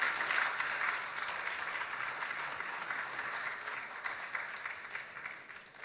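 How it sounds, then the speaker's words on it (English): Sustained audience applause after a lively expert panel discussion, steady and fairly even throughout, moderately distant with no talking over it. "I think we need to give a clap to all of us."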